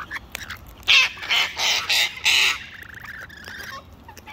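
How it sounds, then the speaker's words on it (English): Several birds squawk loudly in a run of harsh bursts at a backyard feeding spot with buckets and seed, the calls crowding close together before dropping to softer chatter. "One, two, three lorikeets"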